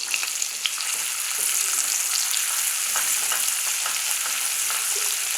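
Onion and a green chili frying in oil over a high flame, a steady close crackling sizzle with scattered sharp pops throughout, no voices.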